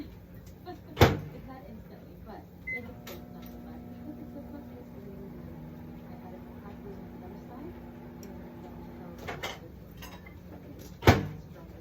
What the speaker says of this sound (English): I'm going to put this in the microwave for a couple of seconds.